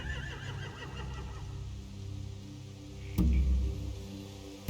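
A horse whinnies briefly in the video game The Walking Dead: The Final Season, a wavering neigh followed by a few low thumps and a sudden loud bump near the end.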